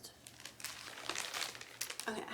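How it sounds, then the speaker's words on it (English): A taped plastic clothing bag is handled and cut open with scissors, giving close, busy crinkling and tearing rustles of thin plastic over a couple of seconds. "I had to get scissors to cut the bag open."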